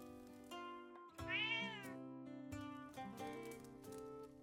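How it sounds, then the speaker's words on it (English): A cat meows with a rising, drawn-out cry over steady game music and ambient tones, loud and close, in The Legend of Zelda: Echoes of Wisdom. "I love how many cats are in this game so far."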